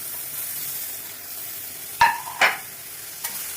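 Squeezed, boiled soya chunks going into a hot pan of masala with garam masala, a steady frying hiss broken by two sharp stirring knocks midway and a fainter one near the end.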